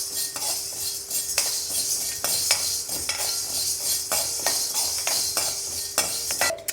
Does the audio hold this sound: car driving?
no